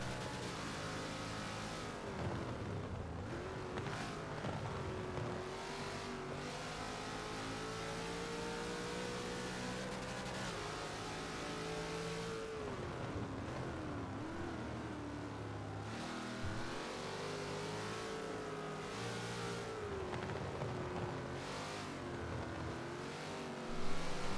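Race cars roar down a long straightaway at Sebring International Raceway in Forza, engines screaming steadily with pitch rising and dropping through gear changes, several cars packed close and loud throughout.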